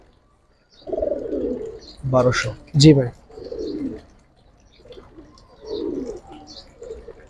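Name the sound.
female chorui pankhi pigeon cooing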